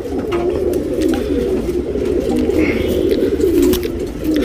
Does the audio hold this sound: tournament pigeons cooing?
yes